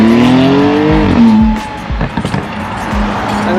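A Porsche Turbo S at a night car meet revs its engine in a rising, then falling tone, followed by short burbling blips and a low idle, loud and close.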